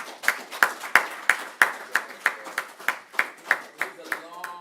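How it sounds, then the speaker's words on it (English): A small room at a school board meeting gives a steady round of applause, with about fourteen evenly spaced, distinct claps close by, fairly sparse rather than a dense crowd. "everybody who was in the spot deserves a round of applause"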